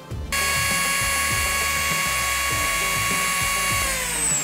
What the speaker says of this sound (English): I did basically just grind off that nub there just to make it a wee bit duller.